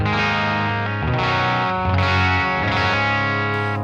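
Electric guitar played through a Sonicake Matribox II Pro on a Fender Deluxe Reverb amp model with an IOR cab, ringing sustained chords with a light effects shimmer, close and steady with no talking.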